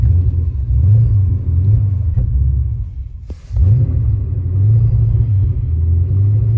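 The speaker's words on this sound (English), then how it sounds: "I'm having to get up in the RPM range to get moving" A 1982 Porsche 928 revs in first gear, its engine rumbling loudly up close with rising and falling RPM surges and a brief dip before picking up again.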